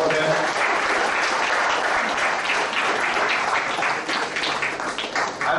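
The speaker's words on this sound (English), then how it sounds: "so big round of applause for them" Dense, sustained audience applause at an event, many hands clapping close and loud, tapering slightly toward the end, with faint voices underneath.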